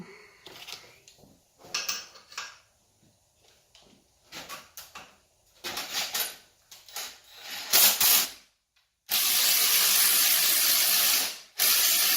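A ratchet socket wrench clicks in short, irregular bursts during the teardown of an LS V8 engine from a budget Fox-body Mustang street/strip build. Near the end comes a louder, steady broadband hiss, and no one speaks.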